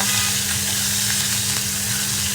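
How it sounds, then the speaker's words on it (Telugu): Ivy gourd and green chillies fry in a black kadai, giving a steady, loud sizzle that runs unbroken throughout, with no talking. "మంచిగా వేయించుకోవాలి"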